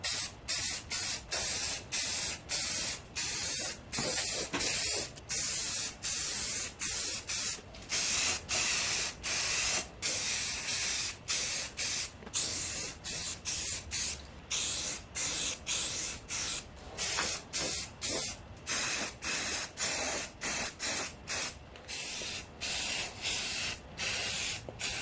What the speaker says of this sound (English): We're going to prime these two pieces.